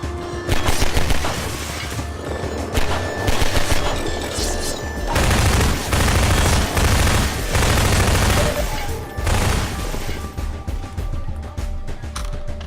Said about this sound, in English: The only problem with this weapon is it's so loud